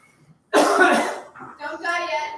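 A person in a group meeting coughs loudly at close range in a short harsh burst, then gives a few softer throat sounds and rough, voiced coughs.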